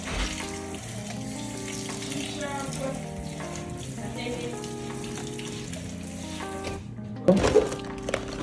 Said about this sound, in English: Always fast wash new utensils.